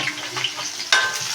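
Chopped onion sizzles in hot oil in a pan while a Pahadi kankoda sabzi is being cooked, a soft, crackling hiss with stirring scrapes and a brighter burst of sizzle near the end.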